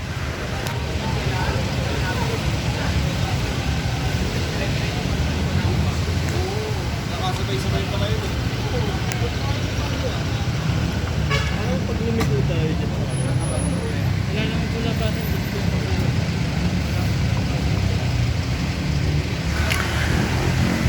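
Cars and large vehicles push through a flooded city street on Dimasalang, with a steady rumble of engines and churning water throughout and a voice speaking over the traffic.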